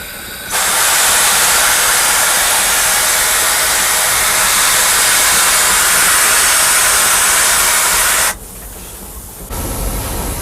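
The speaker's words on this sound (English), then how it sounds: "That's drawn air out of the train line." Air hisses steadily and loudly from a steam passenger locomotive's train brake line as the automatic brake valve makes a reduction, a long continuous rush that cuts off abruptly near the end.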